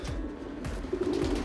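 A racing pigeon coos in a loft, low soft rolling coos close by over a background of rustling and shuffling noise.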